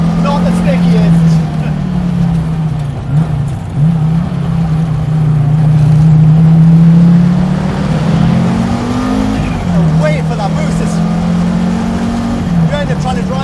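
A 1985 Audi Sport Quattro S1 turbocharged rally car engine drones loud and close, its pitch rising and falling as it accelerates on old tyres, with a voice talking over the steady engine roar.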